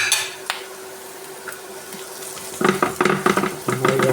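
Onions with chilli powder, garam masala and chicken masala being sautéed in a pan for chicken and koorka mezhukkupuratti, starting with faint sizzling and then turning to louder, close stirring and scraping clatter in the second half.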